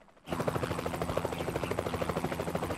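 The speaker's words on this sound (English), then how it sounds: "And what's that sound? You're in a helicopter!" Helicopter in a cartoon, a loud, steady rotor chop beating fast and evenly throughout, starting abruptly and staying close.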